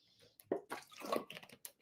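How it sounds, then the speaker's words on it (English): A close, quiet sip of water, with a soft slurp and brief liquid gulping sounds in an otherwise quiet room. "Just going to have a little sip of water"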